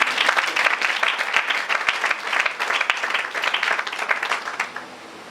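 A church congregation bursting into applause, dense close clapping from many hands that holds for several seconds and then thins out and fades.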